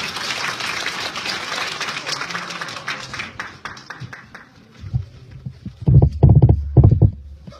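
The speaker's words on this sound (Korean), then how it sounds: "큰 박수" Audience at a Seoul party members' training session applauding to welcome a lecturer, sustained dense clapping that thins out, followed by a few louder close claps and bursts near the end.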